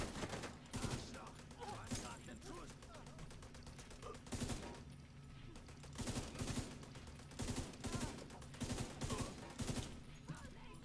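Machine gun fire in the video game The Division 2, rapid bursts repeating in loud clusters every second or so, with a continuous rumble of battle between them.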